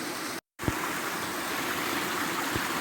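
A brook in Grindsbrook, Peak District, flows steadily over rocks, a close, continuous rushing broken by a brief dropout near the start.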